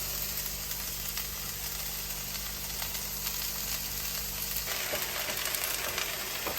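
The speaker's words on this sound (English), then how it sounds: "now I'm taking the same skillet and I'm sauteing the onions" Onions sautéing in a skillet for arepas, a steady close sizzle and crackle that keeps going throughout, briefly shifting as the pieces are stirred and pushed to one side.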